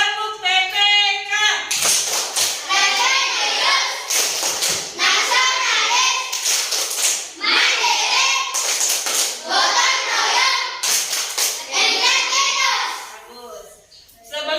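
Children in a classroom perform a clapping cheer game, with repeated bursts of crisp rhythmic clapping between loud group chants, close and lively, and a teacher speaking at the start.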